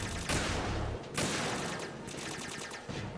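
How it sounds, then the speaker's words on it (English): Rifle gunfire in the video game Metal Gear Solid 2, several sharp shots in quick succession with a rattling burst and echoing tails, heard alone at moderate level. "Oh, I have 4 bullets in the rifle here."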